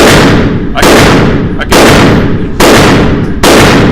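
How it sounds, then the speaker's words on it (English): A SIG Sauer 1911 pistol fires 230-grain HST rounds at a shooting range: five very loud, close shots in a steady rhythm about a second apart, each followed by a booming echo that lingers until the next. "I could feel the pop from the HST, so there's definitely a difference between the HST and the ball"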